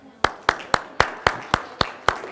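Eight sharp, evenly spaced claps from an audience clapping in unison in a classroom, steady and close with no talking over them.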